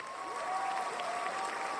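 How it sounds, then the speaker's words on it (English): A round of applause from a crowd, a steady, dense wash of clapping lasting throughout, moderately loud and even, with faint tonal hum underneath. "I'm gonna give you a round of applause."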